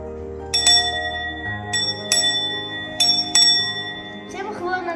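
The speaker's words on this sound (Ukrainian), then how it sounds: "Цей дзвін я друзям передам" A bright bell rings several times at irregular intervals, each strike ringing out clearly over a sustained tone and background sounds.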